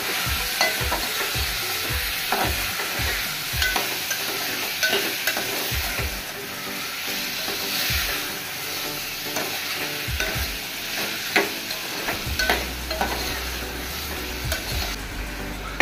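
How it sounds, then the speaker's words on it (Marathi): Onion sizzles steadily in hot oil with fish (mushi) added, while a spoon scrapes and stirs in repeated clicking knocks against the pan; close and continuous, with no talking. "ही आपण टाकूया डायरेक्ट तेलावर, कांदा आणि तेलावर। थोडा वेळ मिक्स करूया।"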